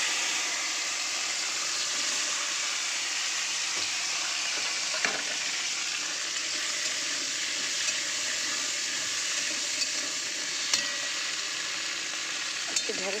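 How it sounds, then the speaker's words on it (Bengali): Chopped okra and onion frying together in oil already used for frying pointed gourd, giving a dense continuous sizzle close by with occasional stirring clicks, no voices. "ওই কাঁকরোল ভাজার তেলেই আমি ভেজে নেব"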